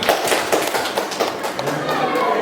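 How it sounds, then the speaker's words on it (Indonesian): Applause for a retiring teacher at a farewell and birthday gathering, a steady wash of many hands clapping close and loud, with voices mixed in. "Tepuk tangan."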